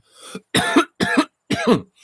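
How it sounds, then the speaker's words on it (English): A short throaty sound followed by three sharp, evenly spaced coughs, close and fairly loud, with brief silences between them. "Well, it coughs."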